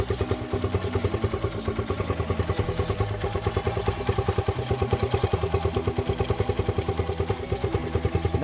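A motorcycle engine runs and revs in good condition with no valve clicking, giving a steady, closely miked, rhythmic mechanical pulse that continues at an even level throughout.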